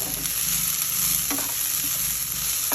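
Beans and peas fry in hot oil in a pan for semiya upma, making a loud, constant hiss with a few soft stirring scrapes and taps mixed in.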